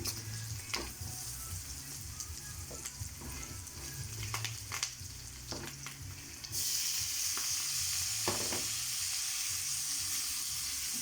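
Tomatoes cooking in a pan with pork, a steady sizzle with intermittent stirring taps, growing louder and hissier partway through.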